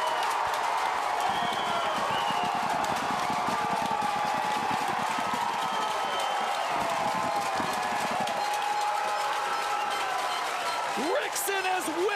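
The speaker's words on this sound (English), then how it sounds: "Rixon has whipped the crowd up into a frenzy." A baseball crowd at an Adelaide Giants game roars after a runner slides in safe at home plate. The loud, continuous roar holds throughout, with a few whistle-like rising tones near the end.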